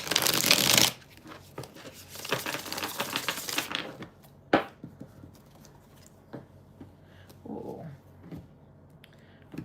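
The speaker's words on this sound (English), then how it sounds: "Let me shuffle this one real quick." Tarot cards are shuffled in two quick riffling bursts, followed by softer scattered taps and card handling in a quiet room.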